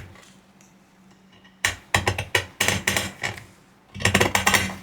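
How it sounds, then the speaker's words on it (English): Pinking shears trim fabric with a run of crisp, closely spaced snipping clicks in two bursts, separated by a short quiet pause, heard close and clear. "So let's just do that with our pinking shears"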